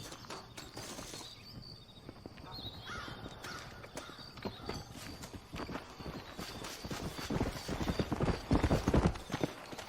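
A horse in the western video game Red Dead Redemption trots along, a busy close clip-clop of hooves that grows heavier and louder toward the end, with crows cawing in the background and a faint voice now and then.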